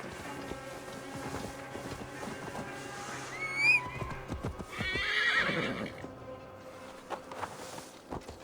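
A horse neighs and its hooves clip-clop in Assassin's Creed Valhalla, one clear whinny over steady hoof beats and busy game ambience, with another rising snort-like call shortly after.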